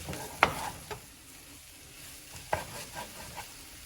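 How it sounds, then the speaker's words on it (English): A spoon stirs Mexican rice in a pot with a couple of sharp scraping knocks against the pot and softer stirring sounds, over a faint sizzle, with no talking. "Then just give it a nice gentle stir to ensure that everything is all mixed in together."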